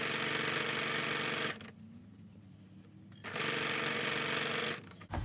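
A sewing machine runs at a steady whir while stitching a fabric project bag, stopping for about a second and a half in the middle before starting up again, loud and close with no voices.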